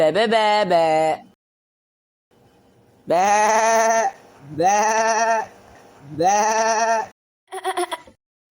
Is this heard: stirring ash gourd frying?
no